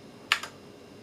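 Two quick keystrokes on a Ghost K1 computer keyboard, sharp close clicks about a tenth of a second apart, then quiet room tone.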